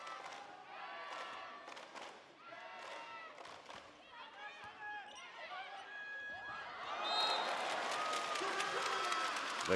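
A volleyball crowd at a Red Rockets versus Airybees SVL 2025 match cheers and claps, the noise swelling louder toward the end, with a commentator talking over it and shoe squeaks from the court.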